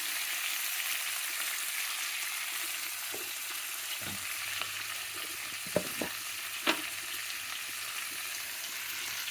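Bell pepper chutney ingredients, including bell pepper, fresh coconut, garlic and onion, sizzling and frying in a pan, a steady crackle with a few soft stirring knocks, close by and with no talking.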